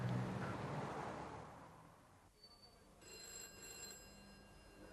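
Telephone ringing unanswered, heard as a steady electronic ring tone that starts after a few seconds of background noise and continues without pickup, at moderate volume.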